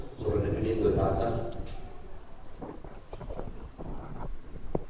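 Quarter horse hooves clip-clop at an outdoor riding school festival, with a crowd's murmur and a voice running over much of the sound before the steps come through more clearly.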